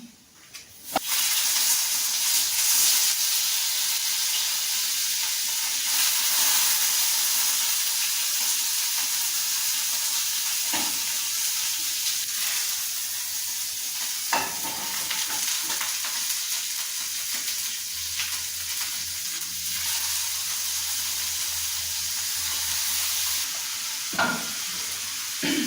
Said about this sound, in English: you have to fry the chicken separately